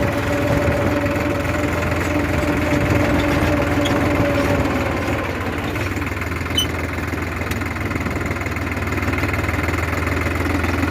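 A tractor with a GPS steering system works a field in Gujarat while spreading fertiliser, its diesel engine thrumming loud and steady close by with a rattling, knocking vibration throughout.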